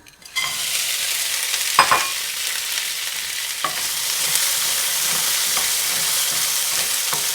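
Frozen peas cook in a hot pan with a loud, continuous close sizzle, marked by a couple of brief stirring scrapes and clinks, and no voices.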